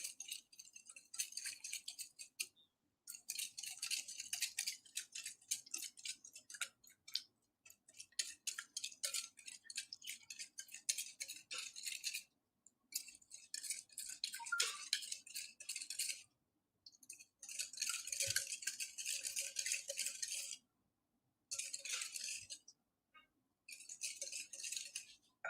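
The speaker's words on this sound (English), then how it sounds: "now whisk it well" A whisk beating brownie batter in a bowl gives quiet bursts of fast, scratchy, rhythmic strokes, broken by short pauses, heard close with no talking.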